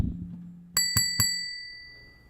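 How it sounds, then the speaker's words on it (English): Three quick, bright bell rings in a row, each leaving a clear metallic tone that fades slowly into quiet. "Hit a bell."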